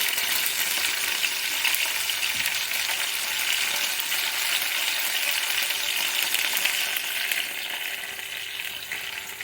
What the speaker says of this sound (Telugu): కరివేపాకు వేగింది కదా, మంచిగా వేగింది. పోపు దినుసులు కూడా వేగిపోయాయి.